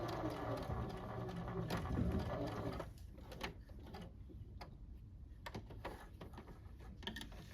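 A sewing machine back stitches at the end of a seam on a pillowcase, running steadily at first, then shifting to a lighter ticking rhythm of short stitches, close up with no talking.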